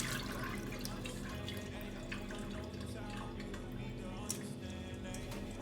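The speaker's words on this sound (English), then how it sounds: "Get the water drain off." Water drains and drips off washed seasoning vegetables such as bell pepper in a kitchen, a continuous trickling splash with scattered drops, close and moderately loud.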